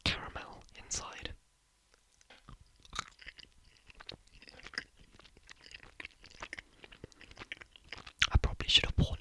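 Close, soft mouth sounds of chewing a Caramello Koala caramel-filled chocolate, with wet crunches and smacks and intermittent whispering, growing louder at the end.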